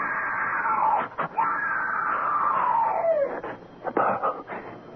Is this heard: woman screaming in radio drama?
yes